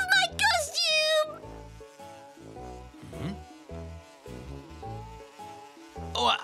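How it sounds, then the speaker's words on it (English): A cartoon bee buzzes in bursts around a lively animated scene, weaving between cheerful music and voices of characters talking. "A bee chased us into the house."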